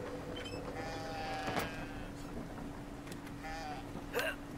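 Sheep bleat in the video game Brothers: A Tale of Two Sons, a couple of short, wavering calls over a steady game ambience hum, with a brief speaking voice.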